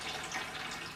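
Acid drains out of a rusty fuel tank and pours into a plastic container, making a steady, close, continuous splashing trickle for the full second, with no talk.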